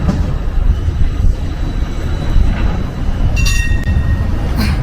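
A train rumbles past close by in Erfurt, Germany, in a steady, heavy roar, with brief metallic squeals from the wheels.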